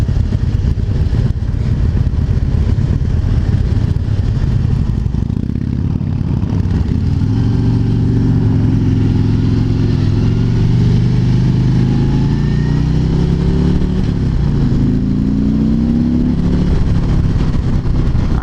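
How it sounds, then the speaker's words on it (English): A Harley-Davidson Street Glide motorcycle on a test ride, its engine droning loud and constant with rising gear-change pitch sweeps and heavy wind rumble, no talk. "A little bit of gear whine in first, not bad."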